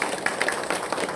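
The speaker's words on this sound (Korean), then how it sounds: "이 시간 우리 환영에 한번 박수를" A Korean church congregation at an early-morning service claps in welcome, a brief, dense patter of many hands, close and fairly loud, lasting just over a second.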